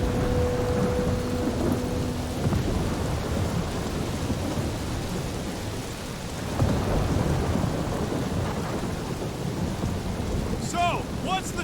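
Thunderstorm in the Guardians of the Galaxy video game: heavy rain hisses without pause while low thunder rumbles and swells, with a brief tonal hum early on and faint higher sounds near the end.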